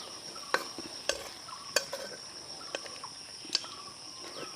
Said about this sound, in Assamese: এয়া দুটা বিলাহী দি দিলো আকৌ অকণমান লৰাই দিম